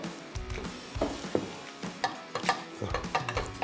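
Sandwich filling of imitation crab and chili being stirred and mixed in a bowl, giving soft, irregular wet clicks and scrapes, close and fairly quiet.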